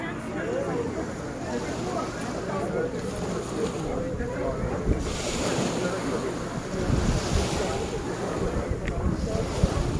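Sea waves wash in at a beach, a steady close rush of surf with wind buffeting the microphone, growing louder and heavier in the second half.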